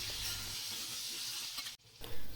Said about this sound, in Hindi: इसमें मैं आलू सबसे पहले ऐड करूँगी और थोड़ी नमक डाल करके इसे मैं ब्राउन करके हल्की सी भून लेंगी